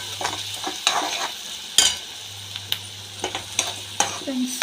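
Onions, tomatoes and green chilies sautéing in a pan, with a steady sizzle broken by repeated scraping and stirring strokes of a spoon, close up and with no voices.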